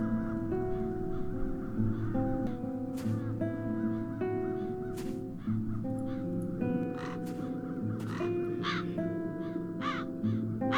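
Crows caw repeatedly in the video game Satinavs Ketten, from Das Schwarze Auge, against a steady layered music and ambience bed. The caws are scattered and fairly clear throughout, with no talking.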